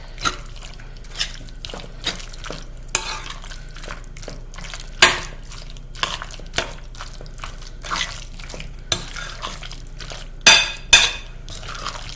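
A spoon mixes potato salad with mayo and mustard in a bowl, making intermittent clinks and wet, squelchy scrapes that are close and irregular, with no one talking.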